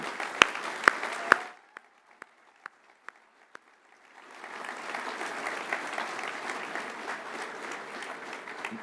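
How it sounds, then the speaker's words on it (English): At a public service awards ceremony, a few sharp, isolated claps ring out, then after a short lull a whole audience breaks into sustained applause. "I'd like to invite you to applaud every single nomination that's been made."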